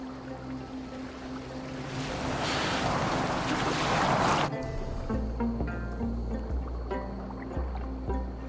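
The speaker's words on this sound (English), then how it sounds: "Are you well enough to steer this boat?" A boat out on the sea in the video game Assassin's Creed Valhalla, giving off a wash of waves and wind that rises and swells loudly, then drops suddenly into softer lapping water and creaking.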